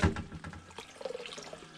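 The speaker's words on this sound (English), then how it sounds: "I'm going to start mixing in some of that dirty pond water in here" Dirty pond water splashes and gurgles as it is poured into a container. It is close and fairly soft, with an irregular trickle and small splashes.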